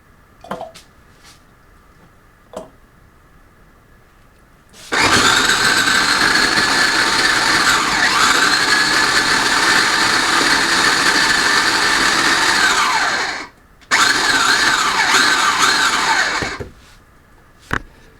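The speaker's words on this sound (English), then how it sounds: "This is just a little food processor." A small food processor chopping beets whirs loudly for about eight seconds, stops briefly, then runs again before cutting off, with faint clicks beforehand.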